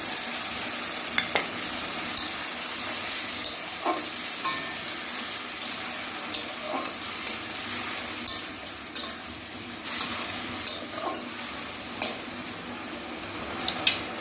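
Masala for a thin Bengali rohu fish curry with ridge gourd and potato fries in a pan with a steady close hiss, broken by regular light taps and scrapes of a spatula stirring it. No one talks.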